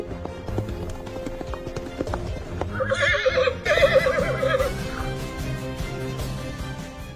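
A white horse whinnies loudly in a long, wavering neigh, with steady clip-clop hoofbeats running underneath against a busy background.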